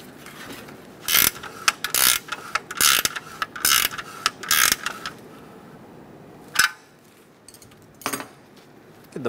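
A hand ratchet snugs down exhaust manifold bolts on a 2003-2007 Honda Accord, with several bursts of rapid clicking followed by a few isolated clicks and pauses, close and clear with no talking.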